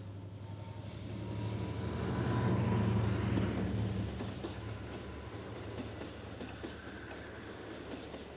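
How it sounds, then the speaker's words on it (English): An R-Class steam locomotive of the Victorian railways pulls away on a damp morning, a broad rumbling roar that swells and then eases with faint rail clatter, no voices. "The locos have been switched round, and the R-Class now leaves."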